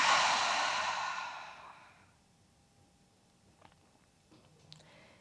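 A long, slow breath is pushed out through the mouth as part of a breathing exercise, loud and close at first, then fading into quiet with a few faint small sounds after.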